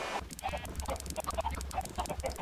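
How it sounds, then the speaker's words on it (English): A flock of farm chickens in a video game clucks busily and close, overlapping bursts of short, choppy calls in a quick, uneven rhythm over a low steady hum. "So many chickens!"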